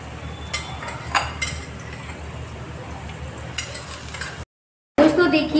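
Urad dal is stirred into onions in a pan and roasted, giving a steady low sizzle with occasional scraping clinks from a utensil and a brief gap before the frying resumes.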